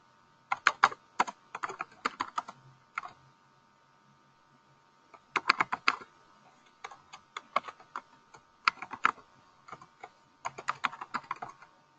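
Keys clatter on a computer keyboard as a name is typed into a contract form, coming in several quick close bursts of clicking separated by short pauses.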